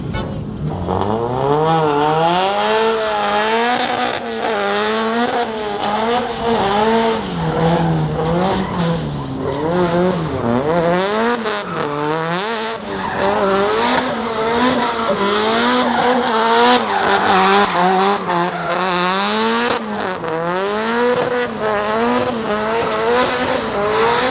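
Cars drifting at a track parade in Malaysia: continuous loud tire squeal with wavering pitch and engines revving hard, one car after another for the whole stretch.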